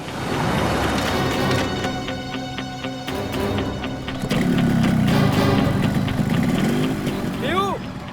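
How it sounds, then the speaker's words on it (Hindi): A motorcycle engine runs continuously after being started, producing a loud, dense rumble that swells about halfway through. Other sounds are mixed into the scene. "बाइक स्टार्ट हो गई, जल्दी आओ।"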